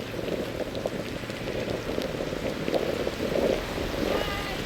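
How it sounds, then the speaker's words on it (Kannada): Steady rain falling during a long road-bicycle ride, a dense continuous hiss and patter close around, with faint wind and movement beneath it and no clear talk. "ರೀಚ್ ಆಗೋದಕ್ಕೂ ಮಳೆ ಸ್ಟಾರ್ಟ್ ಆಯ್ತು ಇವತ್ತು."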